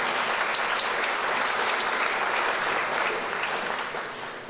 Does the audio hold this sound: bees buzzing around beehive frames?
no